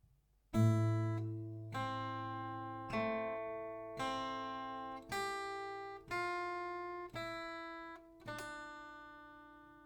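A slow plucked acoustic guitar melody, about eight separate notes each ringing out and decaying before the next, clear and close with no voices.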